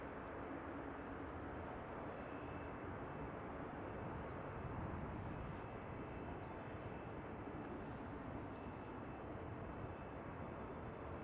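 An airliner approaching to land on runway 36 right at Amsterdam Schiphol Airport, a faint, distant, steady jet engine rumble that drones on without change and carries no voices.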